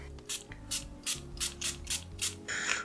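An Armani Stronger With You Parfum tester bottle is sprayed about seven times in quick succession, each spritz a short, close hiss, over a low steady background hum.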